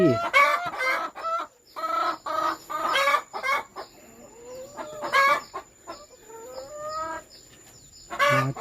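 Laying hens on a small egg farm cluck and squawk in repeated bursts close by, with a rooster-like crow rising among them; no one talks.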